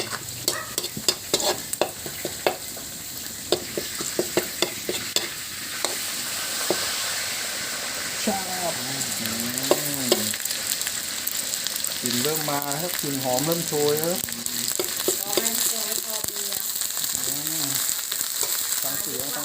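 Small tilapia fill a large wok, sizzling and frying while being stirred, with scraping clatter early on and a steady hiss underneath; someone talks over the cooking.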